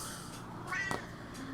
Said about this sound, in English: Is that your cat meow?